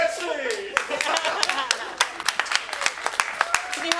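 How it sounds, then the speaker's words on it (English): Audience at a BREW 2024 business conference claps for volunteers, a steady patter of many hands with sharp individual claps standing out, mixed with crowd chatter and voices over the top. "Bigger round of applause, especially for our volunteers."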